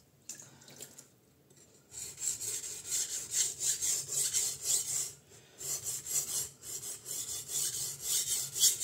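An Usuba knife is sharpened on a DMT Duo Sharp diamond plate, giving steady rhythmic rasping strokes that run close and continuous, with a brief pause partway through.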